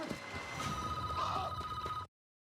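A telephone bell rings in a Resident Evil movie trailer, a steady continuous trill with faint noise beneath, cutting off abruptly after two seconds.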